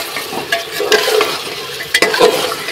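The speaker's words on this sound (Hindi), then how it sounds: "मैं इसमें ये आलू, कटे हुए आलू को डालूँगी।" Cut potatoes sizzle in hot oil and cooked masala inside a pressure cooker while being stirred, with a close, steady fry broken by several scraping stirs and clinks of the spoon.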